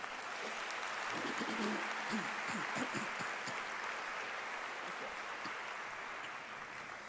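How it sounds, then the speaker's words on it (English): Steady applause from a large crowd at a university fall commencement ceremony, a dense continuous wash of clapping that holds for the whole stretch and eases slightly at the end, with faint voices underneath. "Please join me in a round of applause thanking them."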